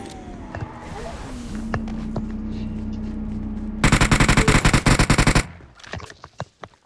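Machine gun fire in a shooting video game rattles out in a dense rapid burst midway, surrounded by scattered single shots and game sounds, with a faint voice in the background.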